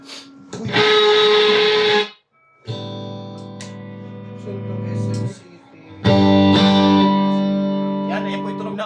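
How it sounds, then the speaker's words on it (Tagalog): Electric guitar played through an amp with J-Crop S1 Red and TG30 pedals: distorted, reverberant strummed chords in three bursts separated by short gaps, loud and close. "Yan, ayan po yung tunog ng amp nyo."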